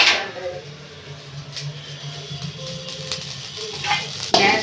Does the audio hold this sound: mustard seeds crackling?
yes